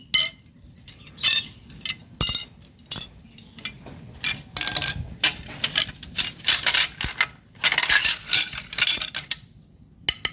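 Maguro Innova 450 tegek fishing rod being extended and collapsed, producing quick metallic clicking and rattling segments in uneven bursts, close and fairly faint, with no talking.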